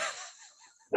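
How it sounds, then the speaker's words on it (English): A dog gives one loud, abrupt bark that breaks in after a soft sound and a moment of near silence. "stop barking"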